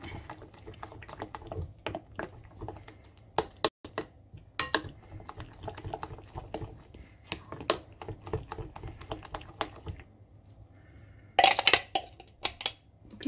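Cod fritter batter for accras de morue being mixed by hand in a bowl, a busy run of soft wet tapping and clicking strokes against the bowl, with a brighter clatter of utensil on dish near the end; no talking.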